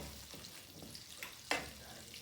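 Butter sizzles quietly in a pan as it is pushed around, a soft steady hiss broken by a few light scrapes and one sharper swipe partway through.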